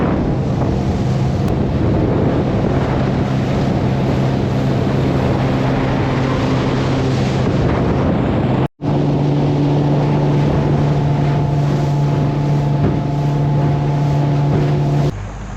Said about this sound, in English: That was a little trip in this boat.